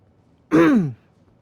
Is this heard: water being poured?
no